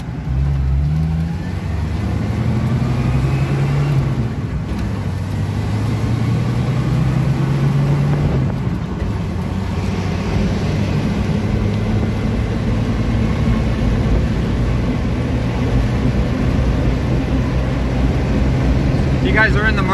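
A black 1992 Jeep Wrangler YJ drives down the road, its engine droning steadily with shifting pitch as it accelerates and cruises, loud and close from inside the cab, with a voice talking over it.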